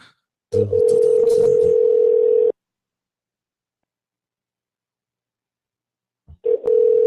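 Ringback tone on an unanswered telephone call: one long, steady tone, a long silent gap, then the next tone starting.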